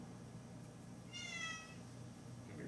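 A cat meows once, a clear, fairly close call rising above steady low room hum, with no talking over it.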